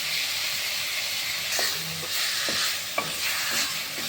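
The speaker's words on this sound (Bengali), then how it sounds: "এবার টমেটোগুলো ভেজে নেব, কাঁচা লঙ্কাগুলো দিয়ে দিলাম।" Continuous sizzling hiss of tomatoes and green chillies frying in a pan, with several scraping stirs and a sharp knock partway through.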